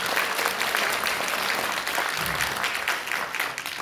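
Audience applause at a Korean political party launch event in 2024, a dense, steady wash of many hands clapping close by, holding fairly even for the full stretch before easing slightly near the end.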